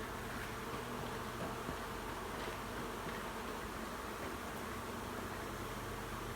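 A steady, dense buzzing of many bees left in honey boxes in a honey house fills the air without pause, close by and even in loudness throughout.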